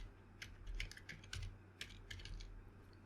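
Quick bursts of keystrokes on a computer keyboard, close and fairly quiet, tapping in short uneven runs with brief pauses between them.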